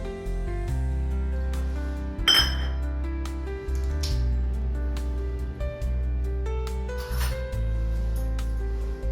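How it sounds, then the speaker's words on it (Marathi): Wheat flour and gram flour mixed in a bowl with a utensil, giving repeated light clinks and scraping rubs against the bowl over a steady low hum. "हे आपण छान मिक्स करून घ्यायचं आहे।"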